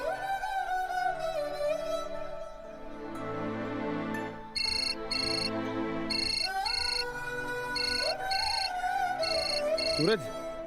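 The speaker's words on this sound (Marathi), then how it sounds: "बघ लाडू, मी तुला फोन लावून देतो." A phone rings in a Marathi TV serial scene, a repeating electronic ringtone pattern heard loud and up close over background music.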